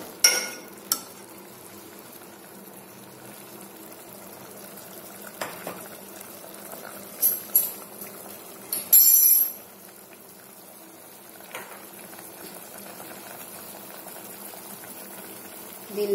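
Mutton boils in a cooker with turmeric, salt and ginger garlic paste, giving a steady, soft bubbling hiss broken by a few sharp clicks and clinks.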